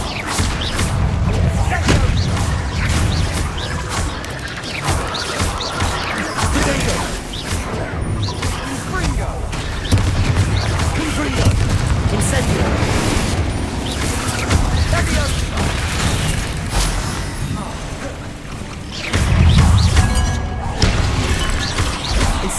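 Confringo spell blasts in Hogwarts Legacy, a dense, continuous barrage of crashing fiery explosions and thuds through a long stretch of combat, loud throughout with little pause.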